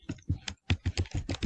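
Rapid clacking keystrokes on a computer keyboard while code is typed, eight or so close, distinct taps in quick irregular bursts with short pauses.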